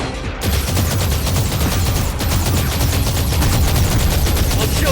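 Dense, continuous rapid-fire explosions and gunfire from the underwater combat game Aquanox as missiles are launched at the player, a loud unbroken barrage throughout.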